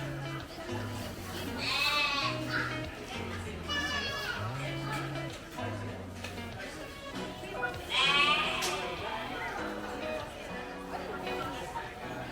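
Several sheep bleat in wavering cries in the sheep pavilion of the Hertfordshire County Show, some close and loud, amid a busy background of children's voices and chatter.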